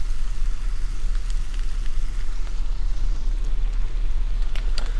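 Oxtail pieces seasoned with salt and pepper sear in a hot pan for a ragu, giving a steady, close sizzle with scattered sharp crackles and pops throughout, no voices.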